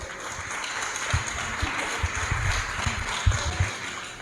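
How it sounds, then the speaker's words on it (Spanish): A church congregation applauds for a few seconds, a dense patter of clapping with some sharper individual claps, fairly close and not especially loud. "Aplauso."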